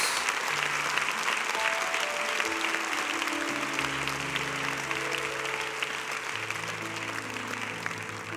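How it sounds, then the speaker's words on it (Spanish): A church congregation applauds loudly and continuously during a service, the dense crowd clapping steady throughout while sustained keyboard or organ tones play underneath. "también un fuerte aplauso"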